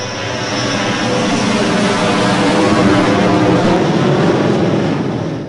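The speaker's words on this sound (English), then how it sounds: "The helicopter comes in, you're fighting the helicopter, which is awesome." A helicopter in the video game Half-Life swoops in with a loud, continuous roar of engine and rotor noise that swells slightly through the middle and fades at the end, heard alone without voices.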